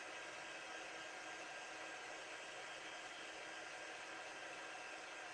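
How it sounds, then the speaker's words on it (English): Heat embossing tool blows hot air onto a card with a steady, close whooshing roar that holds unchanged throughout and no talk. "So when you're using your heat tool, you can see the powder changing."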